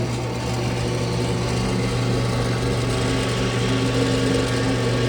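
A drill press spinning at about 3000 RPM in a design workshop gives a steady motor whine and hum, constant and close for several seconds with no talk.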